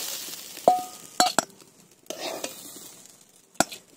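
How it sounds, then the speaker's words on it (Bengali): Lentils and rice being dry-fried in a pan, with a few sharp scrapes and clinks of a spatula against the metal at irregular intervals over a quiet, faint background. "ডাল আর চালটা ভাজা হয়ে গেছে, এবারে নামিয়ে নেব"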